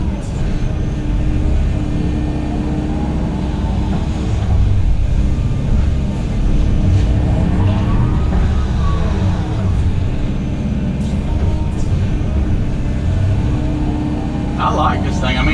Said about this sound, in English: Got a brand new truck loading gravel, so I'm trying not to fling it all over the side